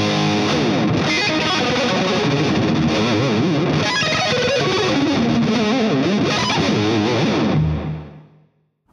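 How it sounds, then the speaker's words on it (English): Electric guitar played through a Rocktron Mega Booster pedal, a mild clean boost pushing the amp, with dense, driven chords and single-note runs sustaining steadily for about eight seconds before fading out. "the Rocktron boutique line is the Mega Booster. It basically just gives you a little bit of push on the amp"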